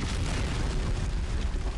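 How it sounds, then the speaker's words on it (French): Cartoon explosions in a city centre, a heavy, rumbling low boom that rolls on continuously for the whole short stretch without speech. "Tensu, il y a des explosions dans le centre-ville"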